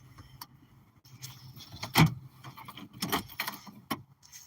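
A man getting out of a car parked in a lot, with soft rustling, a sharp door thump near the middle and brief jingling of keys, close and moderately loud, followed by a few more handling clicks.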